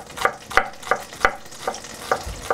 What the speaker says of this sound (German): Beide wieder dran, wo die Butter fängt an zu brutzeln.